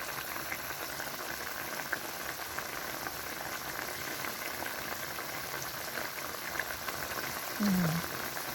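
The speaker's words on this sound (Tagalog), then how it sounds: "Kumukulo na siya." Chicken liver adobo bubbles at a steady rolling boil in a pot, a continuous crackly simmer with a faint low voice briefly near the end.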